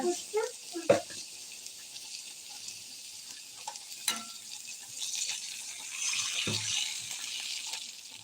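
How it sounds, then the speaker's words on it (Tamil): Half a glass of water splashes into a hot pan of split moong dal, hissing and bubbling steadily, with a few clanks of utensils near the start. "இப்போ ஒரு அரை கிளாஸ் தண்ணி ஊற்றிக்கலாங்க"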